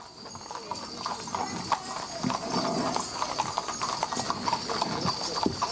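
Horses clip-clop along a street during the Crow Fair parade, with hooves beating steadily under a continuous crowd murmur and an announcer talking over a loudspeaker.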